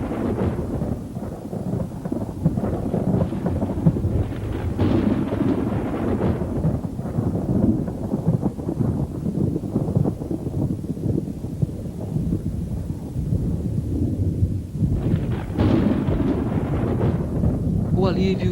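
A thunderstorm rumbles with low, rolling thunder over steady rain and wind, the booms swelling and fading repeatedly, while a narrator talks over it.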